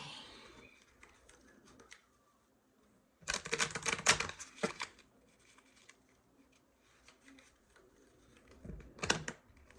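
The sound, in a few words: shuffling small tarot cards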